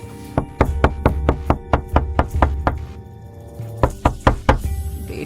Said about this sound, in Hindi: उसने धीमी कांपती आवाज में दरवाजा खटखटाया।